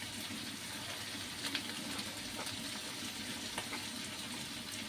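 Vegetables frying in a pan give a soft, continuous crackling sizzle with scattered faint pops, steady and low in level throughout, with no talking.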